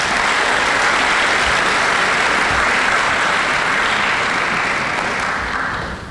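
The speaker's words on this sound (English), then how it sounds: "So round of applause for your folks," A large audience applauds parents at a high school academic awards ceremony, a loud, even wash of clapping that holds throughout and fades slightly at the end.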